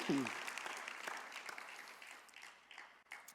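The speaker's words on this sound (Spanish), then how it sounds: "Dale un aplauso a Jesús." A church congregation applauds during a sermon, a soft, fairly distant burst of clapping that thins out and fades, with a brief voice at the start.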